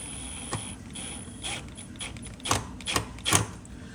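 A Milwaukee 12-volt power drill driving screws while mounting aquarium equipment, short whirring mechanical bursts that grow louder and more frequent toward the end, close by with no speech.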